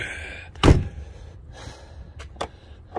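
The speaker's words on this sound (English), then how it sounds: "Oh, back door doesn't open" A single loud thunk as someone tries the back door of a Rover P6 car, followed by softer knocks and faint rustling.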